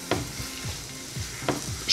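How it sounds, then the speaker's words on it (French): Chicken pieces browning in olive oil in a pan for chicken couscous, a steady soft sizzle with a few scraping stirs of a utensil, close and moderately quiet, no speech. "je le fais revenir 5 minutes"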